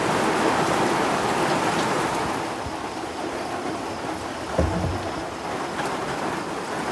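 Heavy rain pours steadily in a forest around a hut being roofed, a dense, loud hiss throughout with a brief thump near the middle and no talk.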